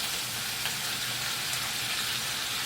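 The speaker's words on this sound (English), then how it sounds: "I want to start frying this fish a little bit" Fish fries in a pan with a steady, dense sizzle and crackle, close and even throughout, no talk.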